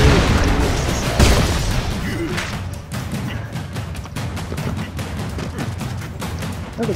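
Rapid minigun fire in the run-and-gun game Broforce, a dense loud stream of booming bursts and thuds that runs without pause, opening with a heavy blast and holding steady throughout.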